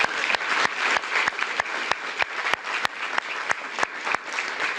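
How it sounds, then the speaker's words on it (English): An audience at a Washington, DC police and corrections leadership announcement gives police department staff a steady round of applause, with individual sharp claps standing out above the even wash of clapping. "So could we please give them another round of applause?"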